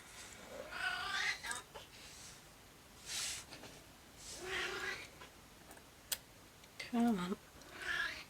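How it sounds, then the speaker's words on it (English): A cat meows several times up close in a quiet room, the plaintive calls coming in short separate bursts, while a person speaks briefly in between. "And now the cat's back."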